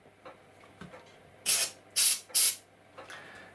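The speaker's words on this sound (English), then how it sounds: "I'll blow the hole out" Three short, loud bursts of compressed air hiss sharply up close, blowing out a hole in a small model diesel engine part, separated by brief quiet gaps.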